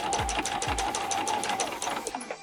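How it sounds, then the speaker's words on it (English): Sewing machine stitching along a folded fabric edge with a 1/8 inch seam allowance, a steady rapid close-up needle rhythm with a couple of low thumps early on, stopping at the end. "stitch right along this folded edge, with about 1/8 inch seam allowance away from that folded edge"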